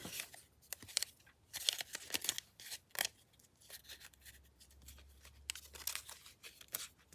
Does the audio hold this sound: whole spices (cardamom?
no